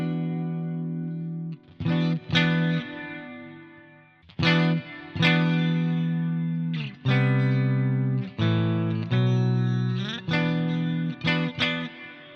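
Electric guitar played through a Tone Master Pro with an Archetype Plini setup and reverb, ringing chords and short stabs in bursts with brief gaps, reverb tails hanging after each phrase, close and clear, no voice.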